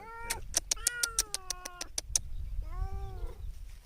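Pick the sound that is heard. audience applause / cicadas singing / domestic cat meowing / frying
domestic cat meowing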